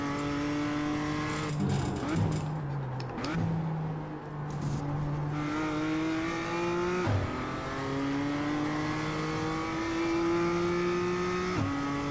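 BMW M2 Cup race car at Daytona, heard close from inside as the engine screams up through the revs with quick gear changes that drop the pitch before it climbs again, repeated several times.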